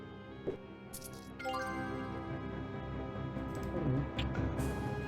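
In the video game Discworld II, leather bladders are filled with water from a canteen: soft liquid drips and squishy trickles over sustained background music, with a few brighter splashes along the way.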